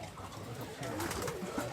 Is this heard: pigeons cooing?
yes